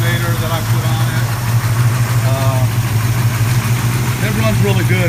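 An old Mopar car engine with a bypassed ballast resistor and a new alternator idles with a steady, close, low rumbling hum throughout. A voice can be heard over the running engine.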